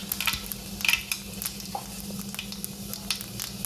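A spice mixture is poured into hot oil tempered with fenugreek and cumin, giving a steady, close sizzle with scattered crackles and faint pan clinks, no voices.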